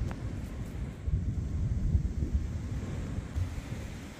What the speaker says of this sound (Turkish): Rüzgarıyla geliyor yağmur.